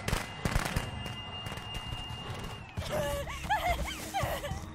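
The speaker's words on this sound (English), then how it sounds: "Firecrackers!" Firecrackers going off in the Friday the 13th video game, a quick run of sharp pops and crackles at the start over a steady tonal hum, then laughter and excited voices take over.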